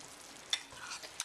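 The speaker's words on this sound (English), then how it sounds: "you'll see it'll immediately start bubbling and boiling" Chicken sauce with whole grain mustard and garlic bubbling and simmering in a skillet, a soft, steady sizzle with a couple of brief stirring clicks.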